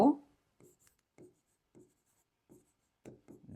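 Someone writes by hand on a board during a maths lesson, making a series of quiet, separate strokes spaced about half a second apart in an otherwise quiet room.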